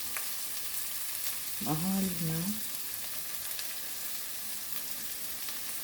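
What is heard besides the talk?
stir-frying celery, salmon and shrimp in a pan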